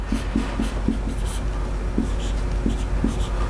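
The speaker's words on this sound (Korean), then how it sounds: "도표를 하나 이제 그려볼 건데요" A pen scratches short strokes on paper while someone draws a chart, making quiet, irregular taps and scrapes that sit under steady background noise.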